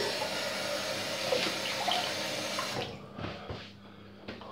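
A razor rinsed under cold running tap water at a sink, a steady close splashing stream that cuts off partway through, followed by a few brief splashes and drips.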